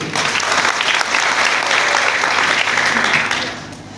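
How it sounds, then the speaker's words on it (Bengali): An audience at a business event applauds steadily, a dense, close burst of many hands clapping that holds for several seconds and then tapers off. "আমি বসের জন্য একটি তালি কামনা করছি"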